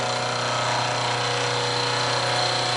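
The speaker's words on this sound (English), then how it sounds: "we're ready to fire up the milling machine and cut the first flat" A milling machine runs steadily while cutting a flat on a workpiece for direct indexing, giving a continuous, loud, even whine and hum with no pauses.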